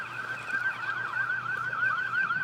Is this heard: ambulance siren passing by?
yes